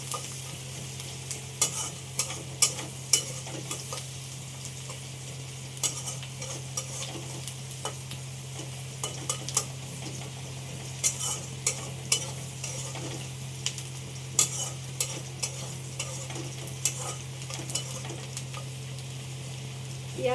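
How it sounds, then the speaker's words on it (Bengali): Onions frying in a pan, with a spoon scraping and stirring in scattered clicks over a steady low sizzle, heard close up and without talk. "পেঁয়াজটা হালকা হালকা ভাজা হয়ে গেছে।"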